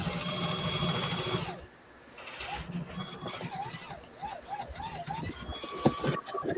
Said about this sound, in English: This cheap sewing machine works better than most sewing machines I've ever used